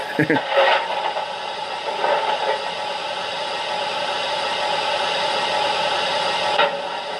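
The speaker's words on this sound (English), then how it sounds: "Grab a shovel and spread that coal." Coal-shoveling sound effect from an MTH model steam engine, the C&O 4-8-4 Greenbrier: a few sharp scraping, rattling bursts at the start and again around the middle, over a steady mechanical hiss.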